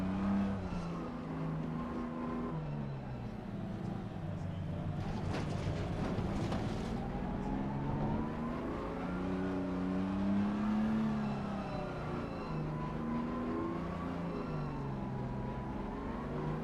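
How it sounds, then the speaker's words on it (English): A race car engine in Assetto Corsa Competizione revs and accelerates through the gears during a rolling start, a steady, close whirring drone that rises and falls in pitch, with no talking. "Now I've got to get the car up to 40 mile an hour."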